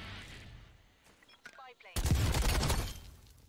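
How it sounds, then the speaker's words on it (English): Bursts of rapid gunfire in Black Ops Cold War, fired blindly through bushes, crash in loudly partway through after scattered quieter shots and keep going to the end. "I'm just shooting through bushes, just not even knowing"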